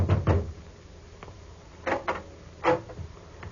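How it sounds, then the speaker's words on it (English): A few sharp raps on a wooden door at a late victim's home in an old radio crime drama, an opening pair of knocks then a short cluster of knocks later, fairly close and with no talk. "I knocked at the door."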